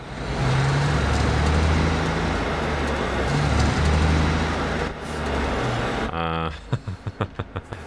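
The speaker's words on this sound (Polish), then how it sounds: "Posłuchajmy, jak brzmi ciężarówka." Heavy truck in the Alaskan Road Truckers driving game, a loud low engine drone that rises and falls steadily, then cuts out, followed by a short run of rhythmic thumping pulses.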